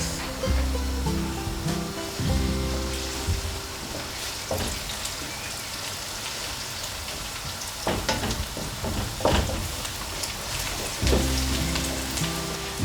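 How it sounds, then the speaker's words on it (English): Crushed ginger being stirred through a sizzling mix in a pan for a British Indian restaurant-style lamb karahi, a steady frying hiss with occasional scraping and clinks, no talking. "So, give that a really nice mix."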